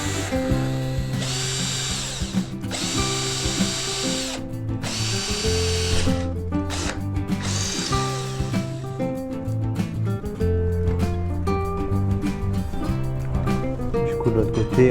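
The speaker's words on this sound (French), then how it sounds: "Et je vais faire un trou en fait pour pouvoir mettre l'écrou." Power drill boring a 6 mm hole for a nut, close and loud, starting in several slow short bursts with pauses, then running in quicker stuttering pulses.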